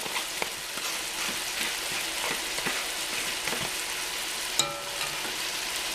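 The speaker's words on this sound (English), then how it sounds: "we got our meat frying here" Steady, close sizzling and crackling of meat and diced yellow onion frying in a pan, with occasional scraping and stirring clinks, and no talking.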